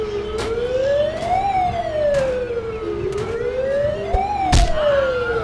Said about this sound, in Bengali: আরে অ্যাম্বুলেন্সটাকে থামানো যাচ্ছে না, এমন শয়তান অ্যাম্বুলেন্স।